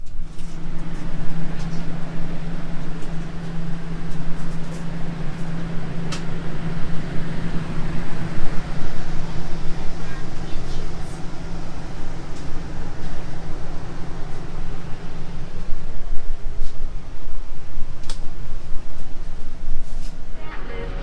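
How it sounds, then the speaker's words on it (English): Steady, loud road rumble and engine drone fill the inside of a moving car, a dense low roar that holds constant throughout with occasional faint ticks and knocks. "So we are driving to buy a couple of more storage"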